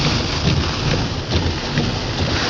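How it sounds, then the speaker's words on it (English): Heavy rain pours down in a storm over a flooded road, a loud, constant broadband hiss and patter with no voices. "the rain is started about 10-15 minutes ago"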